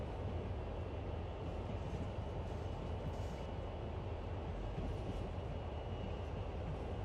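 A CSX freight train locomotive in the Train Sim World video game runs with a steady, dense rumble and drone that holds at an even level throughout, with no voices.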